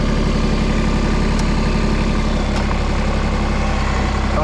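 A Mahindra tractor engine running loud and close in four-wheel drive, a steady heavy diesel rumble with a dense low pulsing throb that holds without pause; no talk.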